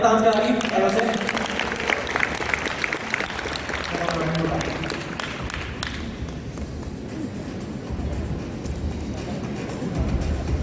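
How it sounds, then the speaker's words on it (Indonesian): Conference audience at the Young On Top National Conference applauds a speaker, clapping fairly loud at first and then thinning out while voices and background chatter continue underneath. "kita berikan tepuk tangan sekali lagi, Pak Yose"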